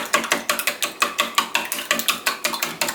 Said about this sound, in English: and then whisk them up